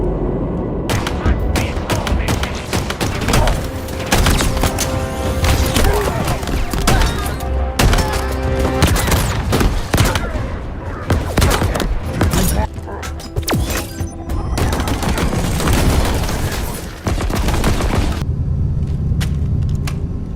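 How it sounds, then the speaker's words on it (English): Weapon sound effects from the video game Halo Infinite, with continuous rapid gunfire, booming shots and impacts filling the whole stretch at a steady, loud level with no pauses. "With Halo Infinite, they've changed a lot of the sound effects in the game, and the human weapons sound pretty much all the same."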